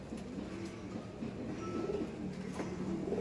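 A young brown racing pigeon coos close by, several soft, low, throaty phrases repeating over a quiet background hum, with no talking.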